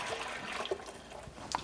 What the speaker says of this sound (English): And we're gonna pour all that nice water back in there.